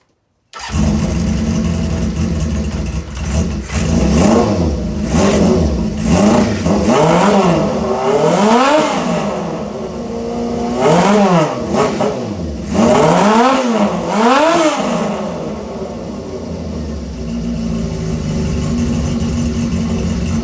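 A Honda CB550 cafe racer motorcycle engine starts and idles with a steady rumble, then revs up and down several times in quick bursts before settling back to idle.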